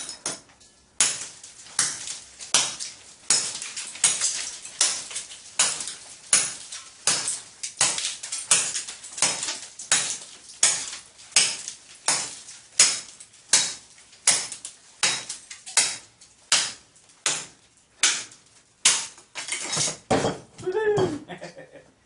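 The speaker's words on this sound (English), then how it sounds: "Just hit it on the vise." A Cold Steel Kukri machete strikes a metal vise in a long series of loud, evenly spaced sharp metallic impacts, about one per second, closing with a brief scuffle.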